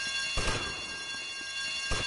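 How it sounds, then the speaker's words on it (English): An alarm bell rings steadily in Grand Theft Auto: Vice City during a standoff, a continuous bright metallic ringing that holds at an even level throughout, with no voices. "I told you not to touch that alarm!"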